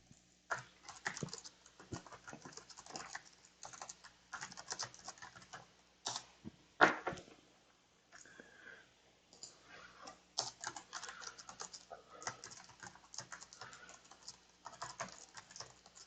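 Typing on a computer keyboard, with steady bursts of soft key clicks running throughout, close and moderately quiet, pausing briefly before resuming.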